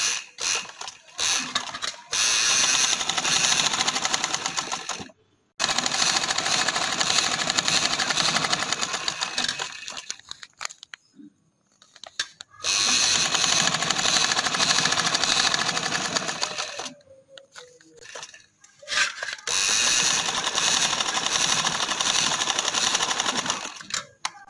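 A sewing machine stitches maroon trouser fabric in long steady runs of fast mechanical whirring, stopping and restarting four times with short quiet pauses between, close and loud.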